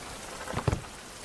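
Rain falling in the survival video game Survival: Fountain of Youth, a steady hiss of drops with a couple of brief louder patters near the middle, no voices.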